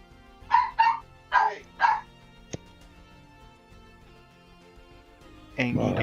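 A small dog barks loudly and close, four sharp yaps in quick succession, then a brief click, quiet background, and a burst of louder noise at the end.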